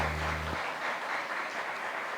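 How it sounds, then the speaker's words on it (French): Audience applause at a wedding ceremony carries on as a steady, full crowd of clapping after a low tone cuts off near the start. "Je vous demande de les applaudir, s'il vous plaît."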